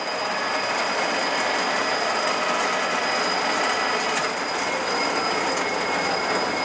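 A TOS 16x41 lathe spins at 2,000 RPM, giving a steady, loud, continuous whirring hum with a high whine that holds unchanged throughout, with no talk over it.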